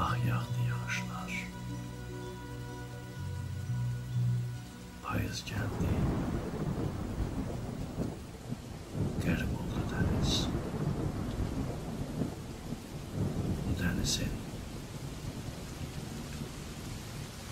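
Steady rain falls with rolls of thunder, a dense hiss that takes over after a few seconds of music, broken by several sharp cracks and rumbles, while a voice recites quietly over it.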